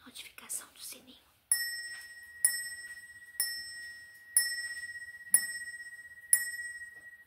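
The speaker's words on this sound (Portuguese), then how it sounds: "não esqueça da notificação do sininho" A bright bell ding rings six times at steady intervals of about a second, each chime ringing out briefly, after some soft breathy sounds at the start.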